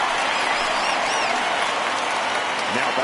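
A broad, steady wash of crowd applause and cheering fills Dodger Stadium in a baseball video game, continuous throughout with a commentator talking over it.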